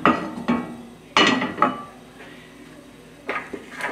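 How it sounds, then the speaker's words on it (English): Frying pan with a little sesame oil swirled on a stove over medium-low heat, giving several metallic clanks and scraping knocks close by at uneven intervals, with no speech. "Swirl the pans."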